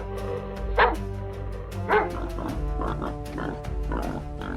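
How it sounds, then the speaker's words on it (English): A pack of dogs on high alert as a lion approaches barks repeatedly in short, uneven bursts, several loud yelps standing out over a continuous low background hum. "A pack of dogs stays on high alert as danger approaches."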